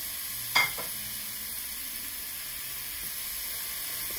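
Purple cabbage frying in a pan gives a steady, low sizzle throughout, with one brief louder scrape or stir near the start and no voices.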